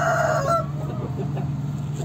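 A hen in a chicken coop clucks briefly and clearly at the start, then the coop settles into a low steady background hum.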